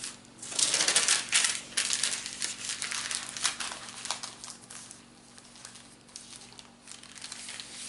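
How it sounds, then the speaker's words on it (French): Sheets of filo dough are rolled up in baking parchment paper, giving close, crackly crinkling and rustling that is loudest at first and then softens into lighter, intermittent paper rustles. "On met donc nos feuilles sur du papier cuisson"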